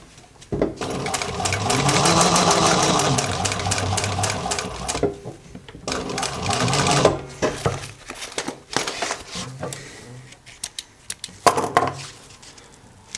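An upholstery sewing machine stitches through an automotive leather panel backed with sew foam, running in a few whirring bursts of rapid needle chatter separated by pauses and handling clatter, close up and without talk.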